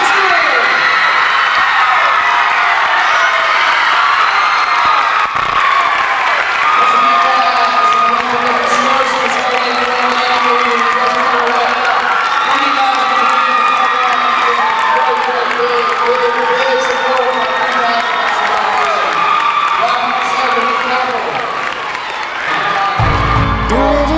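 A large crowd at a cheerleading competition cheers, whoops and applauds a winning varsity team, loud and sustained for over twenty seconds, with shouting voices mixed through the roar.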